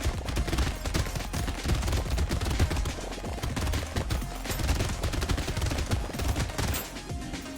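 Machine gun fire in the arena game Brotato, a continuous rapid stream of bullet shots layered over game music, loud and unbroken throughout.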